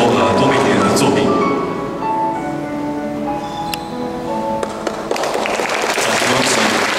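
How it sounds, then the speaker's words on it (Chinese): An audience applauds at the 2019 Kaohsiung Awards ceremony, with steady clapping and a voice speaking over it, the clapping easing midway and then swelling again. "掌声恭喜！"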